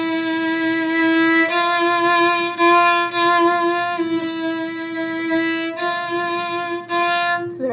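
A solo violin plays measures 34-35 of Massenet's Meditation from Thais: sustained, singing notes that change a few times, with a close, clear tone and no talking.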